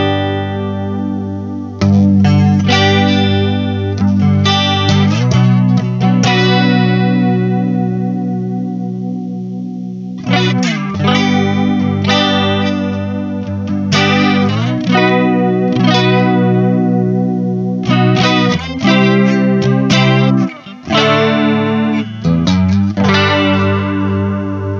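An electric guitar runs through a chorus pedal with the depth turned up, so its strummed chords and ringing notes swirl and wobble in pitch with a wide, shimmering sweep, loud and close, with pauses between phrases.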